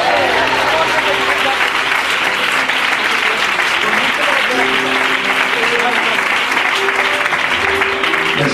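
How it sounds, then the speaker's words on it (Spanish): A church congregation bursts into sustained, dense applause that holds loud and even throughout, with a faint voice under the clapping. "si quiere aplaudir, aplaude"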